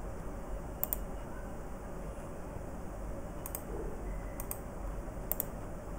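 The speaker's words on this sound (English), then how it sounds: "Now I am going to keep on clicking here" Mouse clicks on a computer while setting tab stops on the ruler in MS Word: a few sharp, light clicks spaced irregularly over steady quiet room noise, with no talking.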